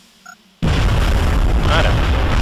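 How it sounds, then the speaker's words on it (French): A grenade blast in XCOM Enemy Within erupts after a brief quiet moment, loud and close, then rumbles on in a dense, sustained roar to the end. "J'ai assuré le coup à la grenade."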